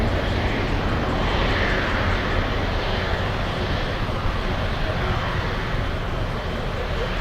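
Airliner engine roar from a Global X Airlines jet in retro livery at Miami International Airport, a steady, loud, broadband rumble holding throughout with no break.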